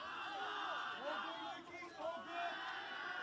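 A crowd of Erindale College supporters cheers and whoops at a schoolboy rugby match, a lively roar with excited shouts rising and falling under a commentator's talk.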